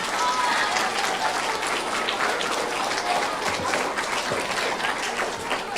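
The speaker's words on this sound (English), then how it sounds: "So give them a round of applause." A school audience applauds the fourth grade teachers at an awards assembly, with dense, steady clapping from many hands filling the room throughout, fairly loud and without a break.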